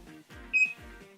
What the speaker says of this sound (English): So I can just turn it on, and then you'll hear the charger beep.